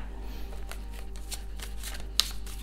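Game of Thrones tarot cards are shuffled by hand, giving a quiet, close, crisp riffling flutter in repeated short bursts over a low background hum.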